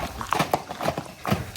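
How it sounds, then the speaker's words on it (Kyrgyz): A black bay racehorse's hooves clip-clop nearby in a quick, uneven rhythm of several clear strikes over a short stretch. "өтө жакшы жылкы туугандар."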